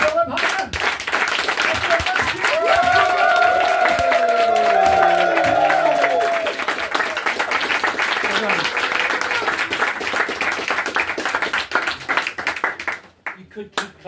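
A pub comedy-show audience at the Prince of Wales in Ledbury claps steadily and loudly in a dense, continuous roll, with a few voices and cheers mixed in, before it fades out at the end.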